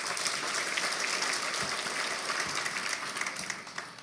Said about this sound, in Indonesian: Anda boleh tepuk tangan